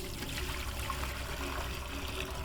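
Clean water pours steadily into a plastic fish sorting tank, a continuous splashing trickle heard close for a few seconds.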